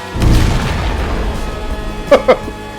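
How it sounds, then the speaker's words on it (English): A heavy, booming rocket hammer explosion in the video game GearHead Caramel rumbles at the start and fades, followed by two sharp popping impacts near the end. "Let's rocket hammer him."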